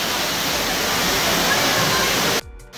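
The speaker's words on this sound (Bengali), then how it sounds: "এদিক দিয়েও ঝর্ণা পড়ছে," Water from a waterfall pours beside a temple near Katra, a loud steady rushing hiss that fills the scene before cutting off abruptly near the end.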